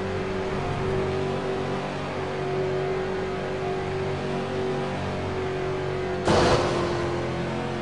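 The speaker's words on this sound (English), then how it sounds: "Let's listen to that purring engine." Race car engine at Charlotte Motor Speedway in a racing video game, a steady sustained drone with a constant pitch, loud and close, broken near the end by a short harsh burst as the car hits the wall.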